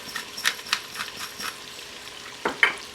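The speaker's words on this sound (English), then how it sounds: "we're a couple of minutes into sauteing our carrots and onions in the bacon fat right here" Carrots and onions sauté in bacon fat for a beef bourguignon, giving a soft, steady sizzle with a few light stirring scrapes and clinks near the pan.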